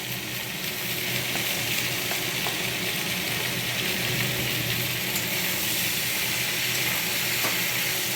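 Winter vegetable curry with spinach frying in a pan, a steady dense sizzle with faint stirring scrapes, loud and close for the whole stretch, without any voices.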